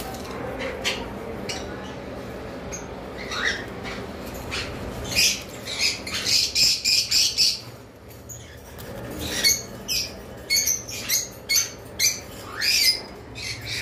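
Pet cockatiels and lovebirds kept in cages give sharp, repeated squawks and chirps in quick bursts, with a voice talking intermittently among them.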